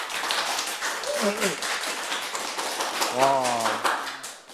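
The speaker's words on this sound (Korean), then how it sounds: "일단 박수." A small group claps by hand in a studio during a live stream, with quick overlapping taps throughout and excited voices exclaiming over them in the middle and near the end.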